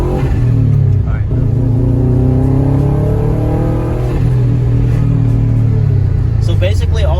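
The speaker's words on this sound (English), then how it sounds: "it covers the blow-off valve and shoots it back to the turbo, which makes that fluttering noise" A turbocharged car revs with a covered blow-off valve feeding air back to the turbo, producing a rising and falling engine note with fluttering texture, heard close and loud under people talking.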